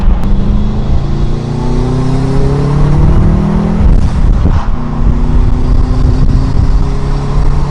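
A GR Corolla engine revs hard at high RPM, a loud sustained roar with rising pitch sweeps, close and continuous, with no talking.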